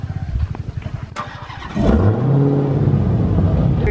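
A Dodge Hellcat idles with a loping, pulsing burble, then its engine fires up into a loud, deep roar and a sustained rev.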